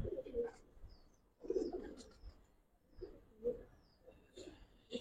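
An old-breed male Giribaz pigeon coos softly in a loft, giving four or five low, throaty bursts in a slow, regular rhythm, close by and quiet, with no talk over it.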